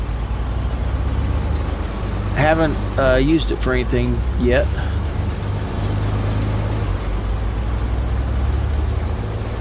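A heavy truck engine in the SnowRunner off-road game hums at a steady low idle throughout, a constant deep rumble with someone talking over it for a few seconds.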